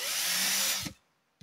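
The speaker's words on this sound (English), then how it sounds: "I just got this wood block back here so that it gives it something to drill into." A power drill bores into a sacrificial wood block, a loud, close, steady whine that cuts off after almost a second, followed by silence and a brief knock.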